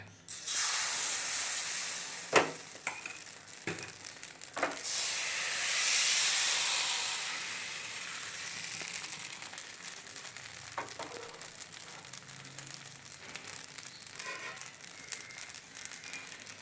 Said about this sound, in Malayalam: ചട്ടി ചൂടായിട്ടുണ്ട്. ഇനി നമുക്ക് മാവ് ഒഴിച്ച് കൊടുക്കാം.